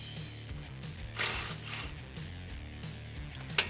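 A socket ratchet clicks rapidly at close range while backing out a 10mm bolt on a Ford F150 brake line bracket, with a couple of brief louder clunks as the socket shifts.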